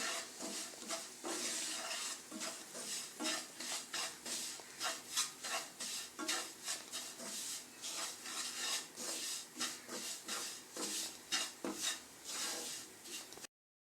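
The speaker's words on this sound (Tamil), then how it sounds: "நம்ம ரவையும் நல்லா இதில் சேர்த்தலாம் சேர்த்து நல்லா கலந்து விட்டுறலாம் நல்லா கொஞ்சம் நேரம் நல்லா பொன்னிறமாக வறுத்து எடுத்துக்கலாம் அந்த நெய்லேயே" Semolina roasting in ghee in a pan is stirred by hand for apple kesari, a repeated rhythmic scraping and rubbing of the spoon against the pan, close and quiet, with no voices.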